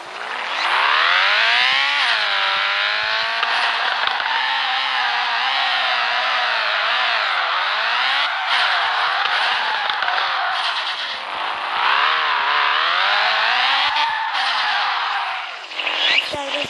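Modified car engine and exhaust in the drifting video game FR Legends, a loud continuous revving whine rising and falling repeatedly through gear changes, with tire skid hiss, heard alone.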